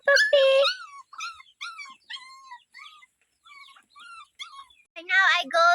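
A puppy whimpers and whines in a series of short, high, tremulous cries with brief pauses, ending in a louder, rougher wail; close and alone with no talk.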